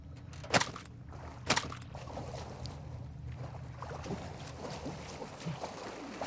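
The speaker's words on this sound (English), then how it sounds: "I guess you do make a lot of noise traipsing about in the water, though." Wading through water in Call of Duty Warzone 2.0, with two distinct splashes early on over a low watery wash, then softer sloshing movement continuing steadily to the end.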